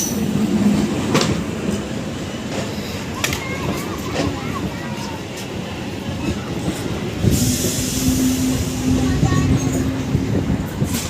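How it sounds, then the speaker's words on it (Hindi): An EMU commuter train running between Ballabgarh and New Delhi, heard from inside a carriage: steady rumbling wheels and clattering track joints with a squealing tone partway through, faint voices in the background. "हमारी जो ट्रेन है चल चुकी है, अंदर बैठ गया था मैं।"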